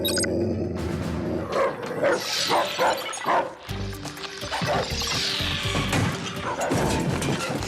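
Cartoon dogs bark and yip excitedly amid crashing and clattering in a kids' animated Transformers Rescue Bots episode, the barks loud and overlapping across the whole stretch.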